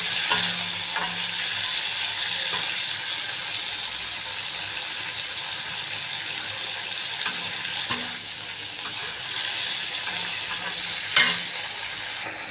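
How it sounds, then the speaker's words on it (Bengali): Prawns marinated in salt and turmeric fry in a pan with a steady, close broadband sizzle, broken by occasional scrapes and stirs, no voices. "চিংড়ি মাছগুলো আমার ভাজা হয়ে এসছে।"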